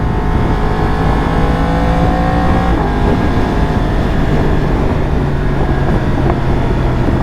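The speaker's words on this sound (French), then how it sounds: "Je sais pas si vous entendez vous à l'accélération, mais elle fait des retours quand je lâche la poignée." A Yamaha R1 motorcycle accelerates hard with a loud, continuous engine roar heard from the rider's position, its pitch climbing through gears alongside strong wind rush; any backfire pops on throttle release are not clearly distinct.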